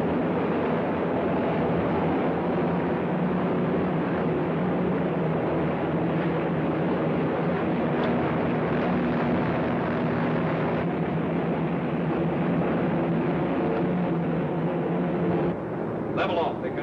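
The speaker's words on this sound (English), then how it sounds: "Patrol plane trying to follow us." A patrol plane flying, heard as a steady, loud droning engine hum holding constant throughout, with speech over it and a slight dip and clatter near the end.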